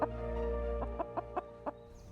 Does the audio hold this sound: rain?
no